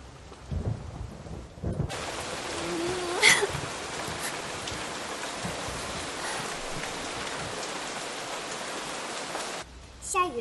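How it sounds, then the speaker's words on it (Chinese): Heavy rain pours down in a broad, constant roar that starts suddenly after a couple of seconds of quieter sound and then cuts away near the end, with a brief voice and thumps at the start. "下雨了"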